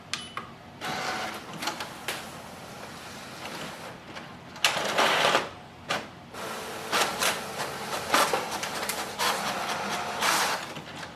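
A Canon MAXIFY GX7050 inkjet printer making a copy: quiet whirring broken by repeated clattering bursts and sliding mechanical passes, with the louder feed strokes arriving irregularly in the second half.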